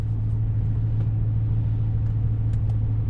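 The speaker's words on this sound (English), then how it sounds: "go ahead, start your car" A car engine idles steadily after starting, a constant low rumble with a hum running unchanged through the whole stretch, fairly loud and close, with no voices.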